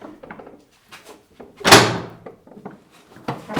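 A heavy door in an old gaol moves and bangs shut with one loud thud, surrounded by faint creaks and knocks in a quiet room.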